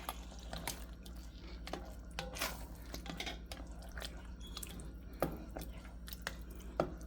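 Thick creamy chicken alfredo sauce with broccoli stirred in a pan, giving soft wet squelches and small clacks of the utensil at an uneven pace, faint over a low steady hum.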